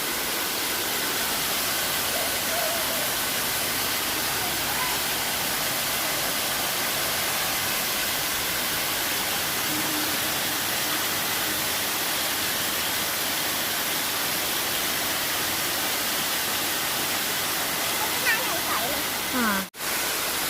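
A waterfall roars as a steady, dense, broadband rush that stays loud and unbroken throughout, with no pauses.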